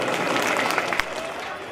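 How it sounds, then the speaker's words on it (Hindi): An audience at a Bhagwat katha, a Hindu scripture recitation gathering, breaks into a brief burst of dense, steady applause with voices mixed in. "एक बार फिर से तालियां बजा दें"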